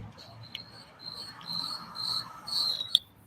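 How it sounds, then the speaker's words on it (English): Loud crickets chirp steadily at a gas station, a shrill pulsing trill that swells and fades across the clip with one sharp click near the end, heard alone with no talk. "notice how loud the crickets are. It's loud crickets in a gas station."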